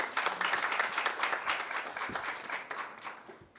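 Audience applause welcoming Professor Choi Eun-seok, president of a psychology society, at an AI transformation flagship conference session; steady, moderately faint clapping from a seated crowd, fading toward the end.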